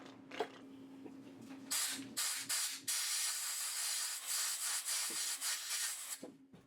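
Compressed air blasts into a broken frame bolt hole on a Yamaha Tenere 700 motorcycle frame, starting with a few short puffs and then giving way to a loud, sustained, fluttering hiss that cuts off near the end.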